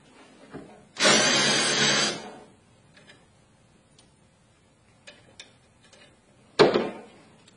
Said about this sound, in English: I'm not putting a lot of downward pressure here. It's pretty much just the weight of the drill driver.